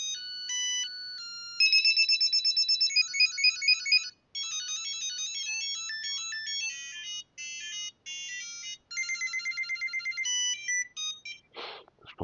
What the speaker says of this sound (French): Alors, allons voir ce qu'on a comme sonnerie.